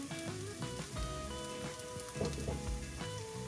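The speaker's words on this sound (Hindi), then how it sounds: "खड़े मसालों के साथ इसको और फ्राई कर लेते हैं 3 से 4 मिनट के लिए।" Whole spices frying in a pan over medium flame for a chicken masala give off a steady crackling sizzle, and a few clinks and stirring sounds come through over it, close up with no talking.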